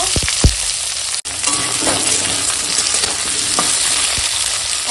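Fried potatoes tossed in a pan with onion and slit green chilli, a loud steady sizzle of hot oil with a few scraping stirs near the start and a brief dropout.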